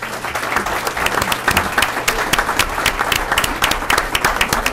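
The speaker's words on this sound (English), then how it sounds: "Let's have one more round of applause for our candidates." Audience applause for mayoral and city commission candidates at a Mount Clemens candidates forum, a steady, crackling round of many hands clapping from a sizable room, moderately loud and unbroken, with no voices over it.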